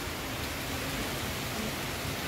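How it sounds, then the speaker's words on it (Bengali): Heavy downpour during Cyclone Remal, a dense steady hiss of rain, constant and unbroken, with no voices. "মুষলধারে বৃষ্টি পড়ছে এখন"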